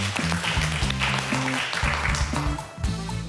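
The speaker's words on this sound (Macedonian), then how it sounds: "Голем аплауз ве молам" A studio audience on a cooking competition show applauds loudly and steadily while a rhythmic music bed plays underneath.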